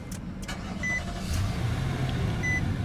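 A 2017 Nissan Armada Platinum's 5.6-liter V8 starts up close by, a brief crank and catch settling into a steady low idle rumble with faint clicks overhead.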